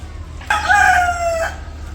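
A rooster crows once, a loud, drawn-out call lasting about a second, with faint clucking from egg-laying hens around it over a low background hum.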